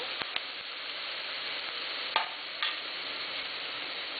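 Sliced onions softening in hot oil, a soft, even sizzle heard close and alone, with a couple of brief clicks from the utensil.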